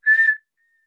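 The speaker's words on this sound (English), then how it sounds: "what we've learned is that the whistling doesn't help" A single short, clear whistled note, bright and close, lasting under half a second, followed by silence.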